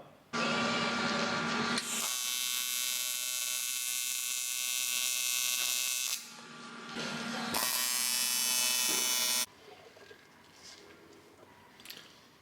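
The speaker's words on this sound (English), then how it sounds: "Chucked it in the bead roller." A bead roller forming a lip into a sheet-metal body panel for a BMW E30 M3 track car, a loud sustained buzzing whine in two long runs separated by a brief dip, then quieter workshop noise.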